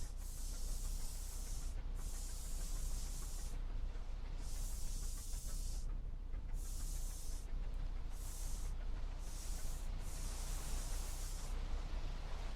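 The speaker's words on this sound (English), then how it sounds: "we're going to start spray painting the Pokeball design" Spray painting in the video game Ark, laying a Pokeball design onto a build, gives a series of about eight sharp hissing bursts of varying length, separated by short pauses, with no talk.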